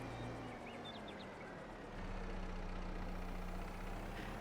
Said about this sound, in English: how loud is the tractor? Is it loud enough or not?